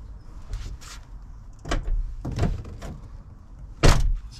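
Door of a Range Rover Sport L320 shutting and locking after an actuator replacement: a few soft clicks and thumps, then a firm, loud slam near the end, close up with no talk.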